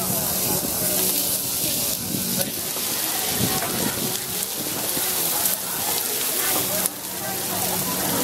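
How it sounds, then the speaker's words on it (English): Duck skin frying into crackling at a London street food stall gives a dense, continuous hiss and sizzle with scattered pops, steady and close throughout. "This is the duck skin. Duck skin? Yeah, crackling. Great. We fry the duck skin."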